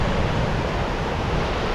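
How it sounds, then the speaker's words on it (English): Rushing waterfall in the bush, a loud continuous broadband roar of falling water, close and unbroken throughout. "Let's look at this waterfall."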